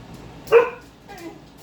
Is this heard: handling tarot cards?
no